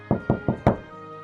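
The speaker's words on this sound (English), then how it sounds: "he stepped forward and knocked on the front door" Four firm knocks on a farmhouse front door, evenly spaced and close, each a sharp thud with a short decay, followed by quiet.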